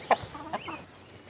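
Chickens at a backyard coop give a few short, close clucks in quick succession, then fall quiet.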